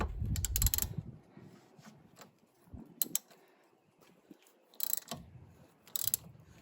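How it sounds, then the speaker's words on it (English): A ratchet clicking in short bursts while a track rod end nut on a Ford Transit is tightened by hand, close and fairly quiet, with pauses between the runs of clicks. "I'm just going to torque it down by hand to where I think 80 Newton meters is"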